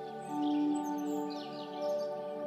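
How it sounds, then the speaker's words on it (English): Birds chirp and sing softly in the background, a few thin high calls over a steady, calm ambient hum. "You can hear the birds singing to each other."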